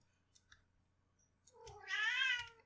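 A cat meows in a short, close, drawn-out cry that rises and falls, preceded by a few faint clicks and small sounds in an otherwise quiet room.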